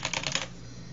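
Computer keyboard being typed on while entering a name in Windows 8, a quick burst of close, light key clicks for about half a second before fading into quiet room noise.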